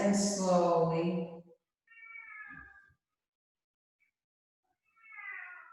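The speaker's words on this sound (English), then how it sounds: "I'm going to see this little kitty cat." A small cat meows three times, each call clear and close, with short silent gaps between them and a low thump after the first.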